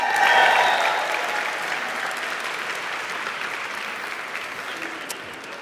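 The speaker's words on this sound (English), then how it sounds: "Let's do a round of applause." A conference audience breaks into applause, a dense wash of clapping that swells at the start and then gradually tapers off while staying sustained to the end.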